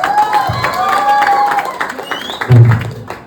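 An audience claps and cheers at a dance battle competition, bursts of applause rising under a loud, reverberant mix of voices and music.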